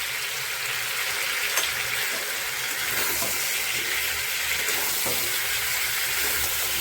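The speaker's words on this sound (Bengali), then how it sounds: "দেখো কুমড়োটা ভাজা হয়ে গেছে, কত সুন্দর হয়েছে ভাজা।" Raw pumpkin pieces fry in a pan with ground coriander and cumin, giving a loud, continuous sizzle close up, with faint scrapes of stirring and no voices.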